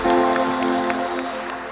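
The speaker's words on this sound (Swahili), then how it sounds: "Na tuwapigie makofi jameni." A church congregation bursting into applause, a dense wash of clapping close around, loud at first and tapering slightly over under two seconds, with faint crowd murmur.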